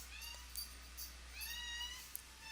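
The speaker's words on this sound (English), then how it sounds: "Sorry about my cat." A cat meows several times in a quiet room, rising and falling calls with short pauses between them and a low steady hum underneath.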